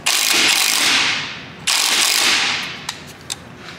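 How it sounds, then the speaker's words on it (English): A ratchet tightens a bolt on a Saab rear lower knuckle bushing, giving two long, loud bursts of rapid, close clicking, each tapering off, followed by a couple of sharp single clicks. "So tighten the bolt all the way until it stops."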